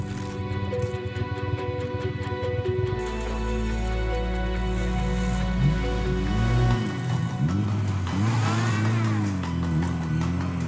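A car revs hard as it is pulled out of deep snow, the engine note rising and falling in long surging strains over a steady low drone, loud and close throughout.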